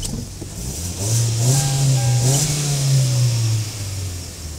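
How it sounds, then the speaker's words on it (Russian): A car engine being started with a Beatit G18 jump starter booster because of a dead battery: it cranks, catches, and rises into a steady revving run that holds for several seconds before easing back. "Сейчас попробуем завести машину третий раз"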